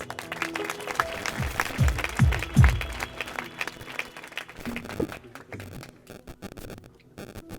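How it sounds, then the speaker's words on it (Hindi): A church congregation in Punjab claps together, a loud burst of many hands that swells and then thins into scattered claps, with low thumps and shuffling mixed in and no speech over it. "ताली बजावांगे।"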